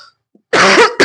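Two harsh coughs, one after the other, from a person with an allergy, loud and close, following a faint murmur.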